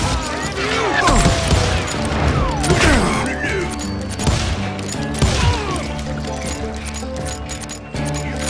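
Hired gunmen open fire in the Western shooter Call of Juarez Gunslinger, loud scattered shots and impacts cracking over a continuous music bed, with a narrator's voice speaking across the action.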